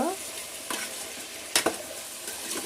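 Potato and ivy gourd pieces sizzle and fry in a pan, with a few scraping stirs of a spatula breaking through the steady crackle.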